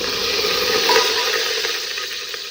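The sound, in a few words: whole spices sizzling in hot olive oil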